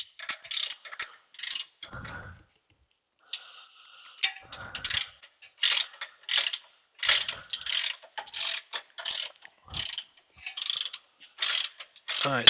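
Ratchet wrench clicking while working under a 2012 Dodge Charger with a front-end clunk, in repeated close bursts of rapid pawl clicks separated by short pauses.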